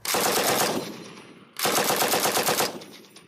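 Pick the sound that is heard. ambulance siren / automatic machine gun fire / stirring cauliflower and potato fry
automatic machine gun fire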